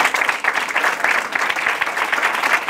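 An audience of secondary-school pupils and guests claps together in a sustained, dense round of applause, fairly loud and close, holding steady throughout without speech over it.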